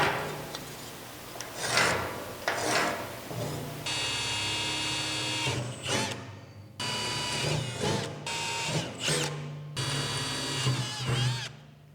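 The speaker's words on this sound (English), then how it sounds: "First thing I want to do is drill out the holes to mount the rain hoods" Bursts of a high-pitched power drill whine, drilling mounting holes for rain hoods on a 12-volt solar power system, starting and stopping several times over a steady low mains hum, fairly close.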